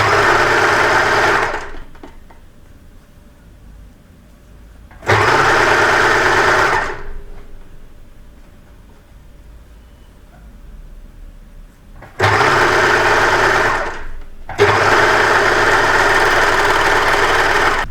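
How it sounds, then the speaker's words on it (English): Overlocker sewing machine stitching a stretch seam on a T-shirt, running in loud steady whirring bursts of one to two seconds with quiet pauses between, the last two bursts close together. "the overlocker, the stitch will just be a stretch stitch anyway"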